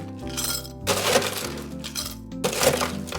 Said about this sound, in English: We're going to fill it with fresh ice.